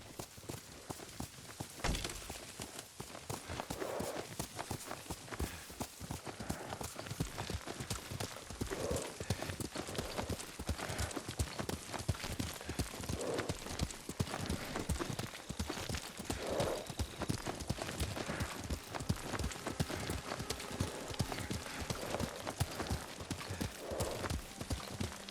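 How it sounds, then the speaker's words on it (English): Horse hooves clip-clop steadily in the samurai video game Ghost of Tsushima, a continuous brisk rhythm of hoofbeats close by, with faint voices and a brief whinny now and then. "Lord Sakai taught me to ride a horse."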